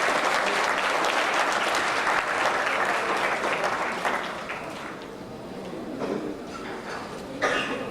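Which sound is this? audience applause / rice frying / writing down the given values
audience applause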